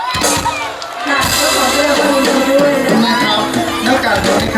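Crowd at a municipal beautiful-krathong contest award ceremony cheering and clapping, loud and sustained, with shouts and whoops mixed into the roar and voices audible throughout.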